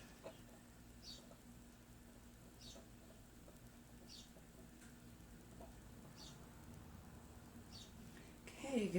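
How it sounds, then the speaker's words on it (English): Baby birds chirp faintly in short, high bursts about every second and a half over a quiet indoor background, ending with a louder rustle. "Those little baby birds."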